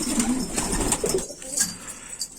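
A pigeon, a Israeli alaca breed held in hand among a loft of pigeons, coos in low soft phrases, close by, with faint higher bird calls around it.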